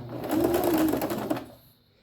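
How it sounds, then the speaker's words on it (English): A short burst of sewing machine stitching along a boning casing: a quick, even mechanical whir lasting over a second before slowing and fading out. "Very carefully do a few stitches because you've got to adjust the presser foot when we get to the casing."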